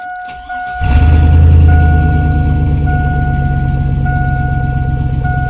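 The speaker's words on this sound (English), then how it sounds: "Next, you can go ahead and start your truck." A Chevy Silverado truck's engine cranks briefly and catches, then settles into a loud, steady idle close by, with a constant chime sounding over the rumble.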